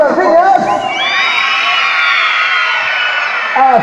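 A crowd of schoolchildren shouts and cheers at a primary school Children's Day celebration, a loud sustained roar of high voices, near and continuous, with an adult's voice at the start and end.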